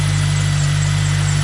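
A Toyota Celica engine fitted with a Rotrex supercharger runs at a steady idle, a loud, close, even hum with a constant low drone and a faint belt whine over it.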